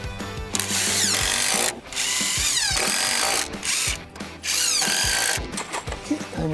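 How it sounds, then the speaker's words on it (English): A power drill drives 3.5-inch screws in a quick job on a property, whirring loudly in several long bursts with brief pauses between them. "let's screw those two and that's it"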